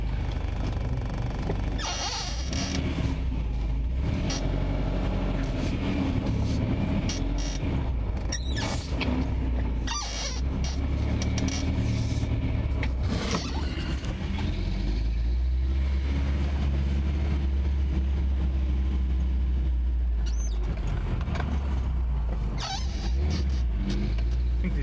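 A 1988 Toyota 4Runner with a freshly installed 22RE engine drives along, its engine droning steadily and close with shifting rumble and brief dips as the throttle changes, with no talking.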